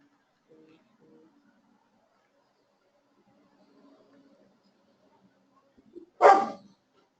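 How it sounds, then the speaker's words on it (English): A dog gives one sharp, fairly loud bark near the end, after several seconds of faint, distant whimpers and yips in an otherwise quiet room. "I've got 3 dogs, so you may hear them in the background."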